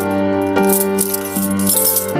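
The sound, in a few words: keys jangling at a door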